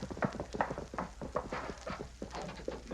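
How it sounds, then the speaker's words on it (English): Horse hooves clip-clopping on hard ground as the animal slows and comes to a stop, a radio drama sound effect, faint and rhythmic with no voices. "That's his horse stopping."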